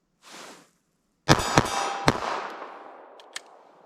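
Several rapid .380 ACP pistol shots from a longer-barrelled gun, sharp loud cracks in quick succession with ringing decay, then two fainter pops near the end after a brief earlier noise.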